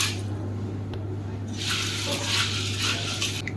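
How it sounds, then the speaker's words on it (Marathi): Water splashes and swishes in a pot as whole masoor lentils are rinsed, with a steady running-water sound and a low background hum. "एक ते दोन पाण्याने आपण स्वच्छ धुवून घेणार आहोत"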